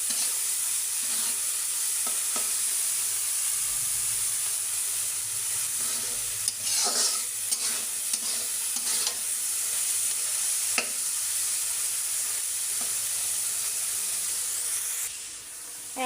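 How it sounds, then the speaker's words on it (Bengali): Small wetland shrimp fry in a pan with a steady close sizzle, broken by scraping, clattering stirs through the middle; no one speaks. "বেশ কিছুক্ষণ এগুলো আগে ভেজে নেব।"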